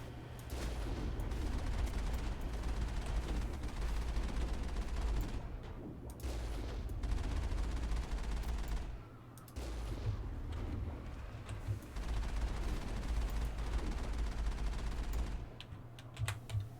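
Mass Effect gunfire in a continuous barrage of rapid shots, sustained over most of the stretch with a few brief pauses, mixed with game noise.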